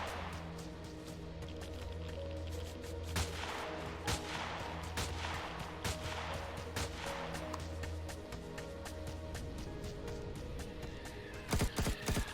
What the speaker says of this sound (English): They're shooting each other or something.